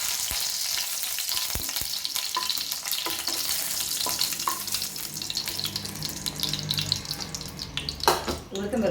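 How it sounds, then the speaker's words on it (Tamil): Chillies fry in oil in a pan, giving a bright, continuous sizzle broken by clattering stirs and scrapes, moderately close. "வானலில் எண்ணெய் வச்சுருக்கேன். இதில் மிளகாய் முதல்ல வச்சு எடுத்துக்கிறேன்."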